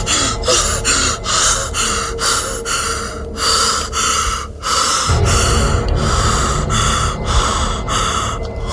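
Heavy, rhythmic gasping breaths, close and loud, repeating in quick succession like someone panting hard after a fright.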